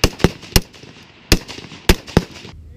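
Scoped service rifle fired in a rapid string at a range, five sharp close cracks in quick irregular succession, each ending abruptly with no voices.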